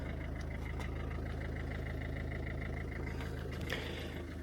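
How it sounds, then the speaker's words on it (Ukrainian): A used budget car at a dealer lot in Germany idles steadily, its engine running evenly with a low continuous hum and faint outdoor background noise, no talking. "Моторчик робить рівно"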